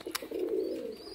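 A pair of Madras pigeons gives a single short, low coo, close by and clear against a quiet background.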